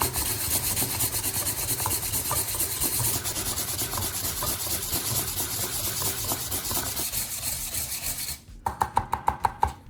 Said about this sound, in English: After that, you smooth both ends with fine sandpaper.